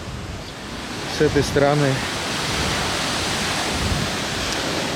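Steady broadband surf of the Baltic Sea on the Curonian Spit beach rushes continuously, with someone speaking briefly over it near the start.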